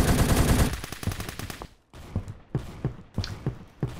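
Shotgun blasts in the first-person shooter Phantom Forces: after a dense burst of rapid gunfire, several separate, punchy shots ring out at irregular intervals, each a sharp crack with a short decay, loud and close.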